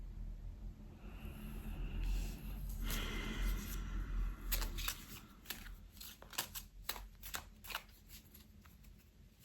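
Tarot cards shuffled, drawn and laid out by hand in a sequence of crisp flicks and soft slides, close and moderately loud, with a few sharper snaps toward the end and no talking.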